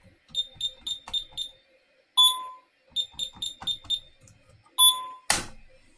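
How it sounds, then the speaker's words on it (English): Rapid series of high electronic beeps in bursts from a fire alarm being reset, with longer tones in between and a sharp click at the end, close and clear. "There was our fire alarm."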